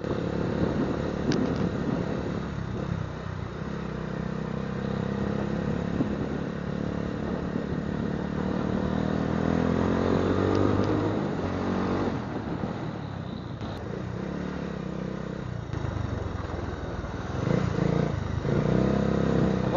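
A KTM motorcycle on a road test in Baguio City runs continuously, its engine droning and shifting pitch with a few rises as it rides along, steady and fairly close throughout.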